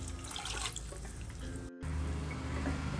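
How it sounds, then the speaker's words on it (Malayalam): Hot water pours into a cooking pot for ghee rice, a steady close splashing with a brief break partway before the pouring flow resumes, and no talk. "അപ്പോൾ ഈ വെള്ളം നമുക്കിതിലേക്ക് ഒഴിച്ചു"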